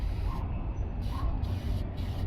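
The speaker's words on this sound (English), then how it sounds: "let's spray the battery terminal protector" An aerosol of battery terminal protector hisses in short bursts onto a car battery's terminals, several spurts with brief gaps, close by over a low steady rumble.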